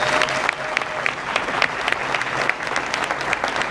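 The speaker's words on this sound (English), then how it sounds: "Could you give them a round of applause" A crowd claps steadily and loudly, a sustained round of applause with dense overlapping hand claps throughout.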